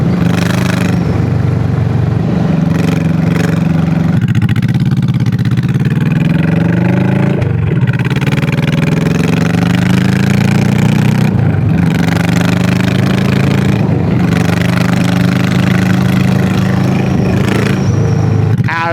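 A Honda Shadow 1100 bobber-style motorcycle cruises along at a steady pace, its engine droning loud and close with shifting pitch as the rider rolls the throttle on and off, punctuated by brief dips between gear changes.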